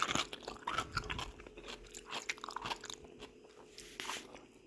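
Crisp, repeated crunching of a bitten and chewed pickle spear, with close, loud bites and chews coming in bursts over a few seconds and no talking.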